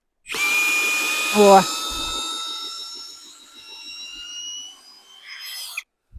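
A Vitals PAU 1870 BS cordless drill-driver backs a screw out of a rotten tree stump, a loud steady whine with rising harmonic tones that holds for about five seconds, then a short rev near the end.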